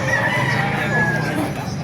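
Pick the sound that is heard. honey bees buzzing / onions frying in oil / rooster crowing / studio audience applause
rooster crowing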